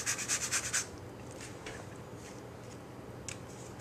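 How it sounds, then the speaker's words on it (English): Lemon zest being grated in a kitchen for smoked salmon tapas: a quick run of rhythmic rasping strokes close up at the start, then fading to a quiet room with faint scratches. "I need to grate some zest here, but do not go too far down to the white part"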